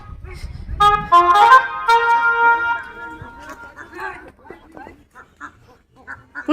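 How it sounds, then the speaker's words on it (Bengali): Ducks on a village pond quack in loud, nasal bursts near the start, then scatter into fainter calls while voices shout and talk over them. "কাল থেকে আমাদের পুকুরে হাঁস সারা রাত ছিল উঠছে না"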